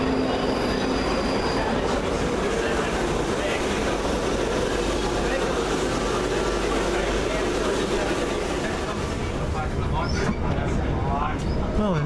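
Train arriving at Glasgow Charing Cross station, rumbling, clattering and squealing as it slows, with loud mechanical noise and a person talking over it, the sound easing toward the end.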